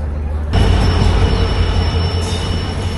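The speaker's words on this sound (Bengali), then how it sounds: "এদিকে আমাদের ট্রেনের যে লোকোমোটিভ, সেই লোকোমোটিভকে শান্টিং করিয়ে এদিকে লাগানো হচ্ছে।" A Borendro Express locomotive shunting at a station gives a loud, steady rail rumble with faint metallic wheel squeal and a sudden rise in level shortly after the start.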